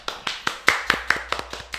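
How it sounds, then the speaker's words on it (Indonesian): A handful of hands clapping in a steady rhythm of about nine sharp claps, close and fairly loud, at an Indonesian podcast gathering at a collective space, with no talk over it. "Tepuk tangan."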